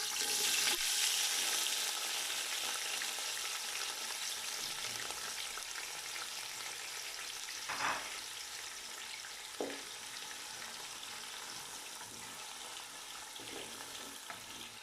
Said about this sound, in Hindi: ऑयल हमारा गर्म हो गया, अब इसमें मैं प्याज डाल दूँगा।